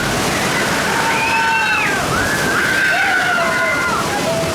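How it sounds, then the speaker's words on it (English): Rushing water churns and sloshes steadily on the Grizzly River Run rapids raft ride at Disney California Adventure, a loud continuous wash with faint high squeals or calls drifting over it. "Live footage there from Grizzly River Run, an absolutely awesome rapids that was an opening day attraction"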